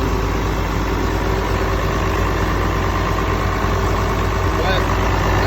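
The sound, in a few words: John Deere 4420 tractor engine idling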